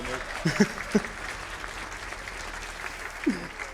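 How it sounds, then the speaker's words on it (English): Applause from an audience during a speedrun relay race event, a steady clatter of clapping that carries on under brief bits of talking from a presenter. "Can we get a round of applause for Team Carlos, everybody?"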